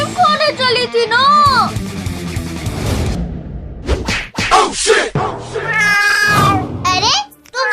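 Cats meowing loudly in a comedy skit, several drawn-out, wavering meows and yowls close by, mixed with shouting voices and sharp slaps.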